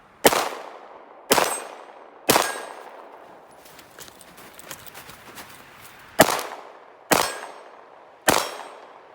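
Nambu Type 14 pistol firing, six loud sharp shots spaced about a second apart in two groups of three, with a quieter stretch of faint clatter between the groups.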